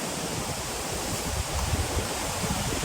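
A waterfall at Tatopani, Rukum East, pours with a continuous close rushing roar, fairly loud and even, with slight surges and no speech over it.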